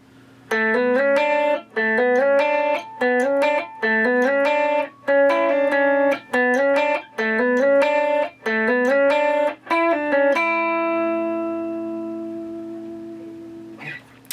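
An electric guitar with distortion plays a lead riff of quick separate notes, ending on a long ringing note that slowly fades.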